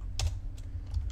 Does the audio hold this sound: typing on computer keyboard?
yes